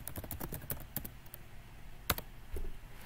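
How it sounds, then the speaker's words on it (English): Several quick keystrokes typing a terminal command on a computer keyboard, a burst of close, light clicks, then a pause and one sharper key press like Enter, with a soft thump after. "typing in the command npm run dev and press enter"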